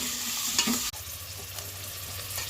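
Onions with green chillies sizzling and being stirred in a pan while roasting for a simple pulao, a steady close fry with a brief scrape of the spoon partway through.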